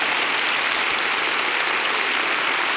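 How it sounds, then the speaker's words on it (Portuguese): A studio audience claps steadily at a televised evangelical church program, a dense, even wash of applause that stays loud and unbroken throughout with no voices over it. "E vamos aplaudir a Jesus"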